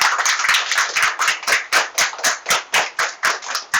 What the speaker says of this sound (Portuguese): palmas pro Pedro.